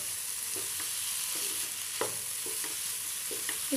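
Vegetables, potato and cauliflower, are stirred into masala frying in a pan over a medium flame, a steady sizzle under faint scraping strokes of a spoon, fairly quiet and continuous.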